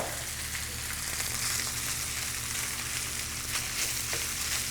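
Rice sizzles and fries steadily in a hot pan, a dense, continuous crackle close to the mic with no talking.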